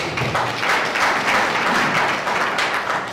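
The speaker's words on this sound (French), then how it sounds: "Alors encore des applaudissements pour lui." An audience at a public speaking event gives a speaker a sustained round of applause, dense clapping that stays loud and even throughout.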